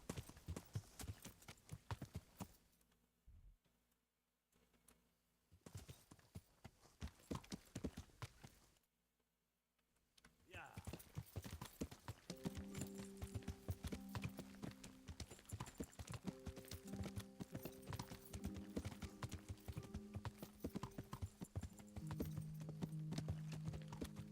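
Steady clip-clop of horse hooves at a walking pace in the video game Kingdom Come: Deliverance, with rain and a faint musical tone underneath; a brief quiet gap breaks the rhythm partway.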